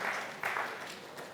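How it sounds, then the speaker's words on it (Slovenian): Audience applause fills the hall at the POPRI 2024 closing award ceremony in Nova Gorica, a short burst of dense, steady clapping from a crowd, moderately loud and fairly close. "Še bomo ploskali"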